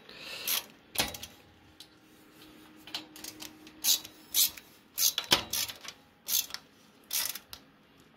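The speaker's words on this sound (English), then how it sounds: "again, you're screwing into plastic" Screw being driven into plastic parts while assembling a Televes DAT LR UHF/VHF antenna, heard as a series of short creaking, ratcheting clicks in irregular bursts, close up, with no talking.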